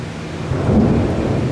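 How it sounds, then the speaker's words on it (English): Thunder rumbling outside during a storm with rain, a deep rolling boom that swells and lingers, loud and low over a constant rain hiss. "Uh-oh, it's thundering out pretty good."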